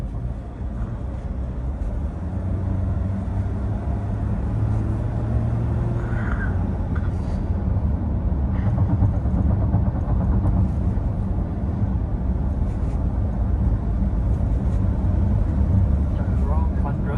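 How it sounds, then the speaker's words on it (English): Inside a 2022 Ford Ranger XLT 2.0L EcoBlue single-turbodiesel 4x4 cruising around 100, a steady low rumble of wind and road noise runs throughout while someone talks over it. "Feel the wind noise okay lah, not so loud."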